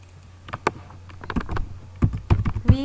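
Someone types on a computer keyboard while inserting a column in an Excel spreadsheet. There are scattered soft taps at first, then a closer, quicker cluster of key presses, with no talk.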